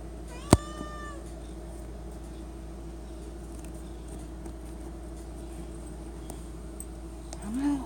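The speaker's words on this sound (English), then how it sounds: "Y'all meow like babies." A cat begging at a pantry for Friskies treats gives one sharp, loud meow near the start, then a quieter rising meow at the end, with a low steady background hum between them.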